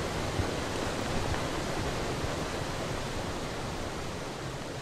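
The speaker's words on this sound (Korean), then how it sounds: "아, 물소리." Running water in a horror video game set in a shadowy corridor, a dense, even rushing wash like a stream or waterfall, steady and fairly loud throughout with no voices.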